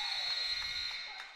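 A sustained electronic buzzer sounds at halftime of a club college basketball game in a gym, a steady bright tone that holds for about a second and then fades.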